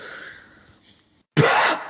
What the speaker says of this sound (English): Oh, I'm going to sneeze now.